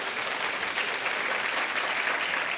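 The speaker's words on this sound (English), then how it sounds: "You guys are a great audience. I typically don't get applause." Audience applauding at a medical joint conference talk, a steady, dense clapping that holds for a few seconds at moderate loudness with no voices over it.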